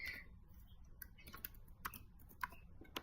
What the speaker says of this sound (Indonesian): Di sini kita ketik dulu